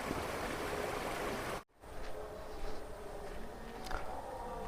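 The gentle flowing water of the Souparnika River at Kollur, a soft steady rush that grows fainter and calmer partway through, with light trickles and gurgles.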